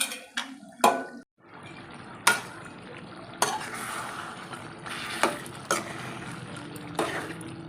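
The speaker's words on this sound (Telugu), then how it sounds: "చికెన్లో నీళ్ళు కూడా కొంచెం పోసుకున్నాను." Water poured into cashew chicken fry in a pan brings a brief clatter, then a low sizzling bubble broken by a few sharp clinks of a utensil against the pan.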